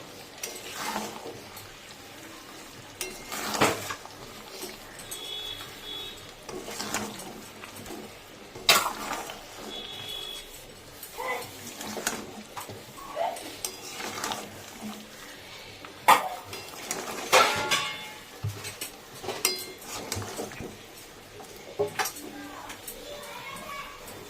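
A spoon stirs cauliflower curry in a pan, making repeated close clinks and scrapes against the metal in irregular bursts, with faint voices and household noise in the background.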